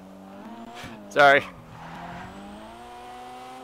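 A car in GTA Online idles with a low engine hum, then gives one short loud burst like a rev or tire squeal, with a person speaking briefly over it.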